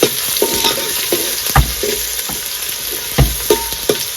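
Onions fry in a hot pan with a constant sizzle, while a spoon stirs and scrapes against the metal in several sharp knocks. The sound is close and loud, with no talking.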